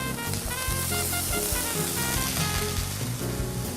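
A trout fillet fries in butter with squeezed lemon and salt, giving a steady, close, loud sizzle throughout with faint tonal sounds in the background.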